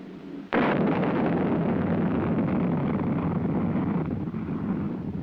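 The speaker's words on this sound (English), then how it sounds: "Following the initial thrust provided by ignition of the first stage rocket motor, the missile enters a coast period" First-stage rocket motor of a Cold War American missile igniting at launch, a sudden loud blast followed by a sustained roaring rumble that fades slightly over several seconds, with no voices.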